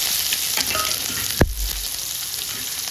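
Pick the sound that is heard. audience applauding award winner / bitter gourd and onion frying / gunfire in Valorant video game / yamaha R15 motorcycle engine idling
bitter gourd and onion frying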